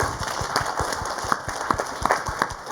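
Audience at a fintech meetup applauding board members, a moderate patter of claps at a steady, uneven rhythm with no talk.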